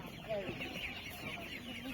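Hens cluck and murmur close by in short, overlapping calls at an outdoor market, with faint voices in the background.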